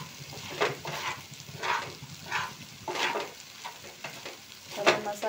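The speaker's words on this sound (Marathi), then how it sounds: "मस्त चांगली भाजून घ्या डाळ." Spiced dal filling for khasta kachori being stirred and roasted in a pan, with a spoon scraping in repeated strokes roughly every half second over a soft, steady sizzle, close and moderately loud.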